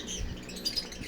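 A hand-fed pet bird gives faint, brief high chirps close by over a low background murmur, with no talking.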